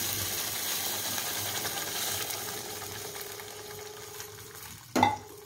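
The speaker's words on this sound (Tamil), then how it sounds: "ஒரு 2 நிமிஷம் வதக்கி விட்டு சட்னியை எடுத்துக்கலாம்" Garlic chutney stirred and sautéed in a pan with curry leaves, a steady soft sizzle and hiss running throughout, with one sharp metallic clink near the end.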